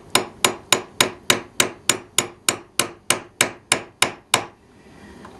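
A part being tapped into an N scale model railroad turnout, about fifteen sharp, evenly spaced light taps, close and clear, stopping abruptly, with no talk.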